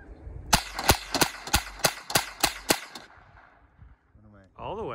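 A toy gun fires rapidly, eight sharp, loud snapping shots in quick, even succession close by, followed by handling noises and a voice at the end.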